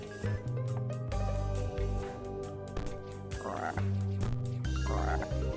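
Frog croaks from the board game adaptation Draftula sound off over a busy musical backdrop, a few low repeated croaks rising above the music with no talking.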